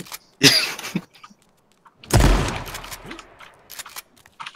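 AK rifle fire in the battle royale game H1Z1 comes in two loud bursts of rapid shots, with the second longer and echoing, between short quiet gaps and faint game sounds.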